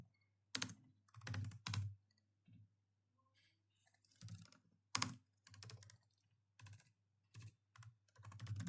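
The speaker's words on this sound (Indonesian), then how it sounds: "Saya akan mengetik terlebih dahulu." Someone types on a computer keyboard in irregular bursts of close, crisp key clicks with short pauses, over a faint low hum and no speech.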